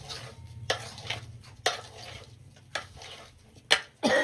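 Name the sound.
mixing potato bhungla with spices in a pan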